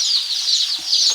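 Hundreds of baby chicks in a brooder make a dense chorus of high, rapid peeping. The chirps overlap continuously and sound loud and close.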